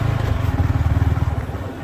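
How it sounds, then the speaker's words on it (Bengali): Motorcycle ride on a narrow road between jungle and a large pond, with a steady low engine rumble pulsing close by throughout, no talk. "বাইক নিয়ে ঢুকতে হচ্ছে"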